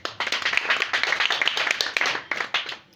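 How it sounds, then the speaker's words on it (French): A church congregation claps together in a dense, steady burst of applause lasting a few seconds, loud and close, with a few voices mixed in. "Est-ce que tu peux acclamer pour toi-même?"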